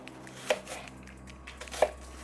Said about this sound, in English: take these apples and chop them into cubes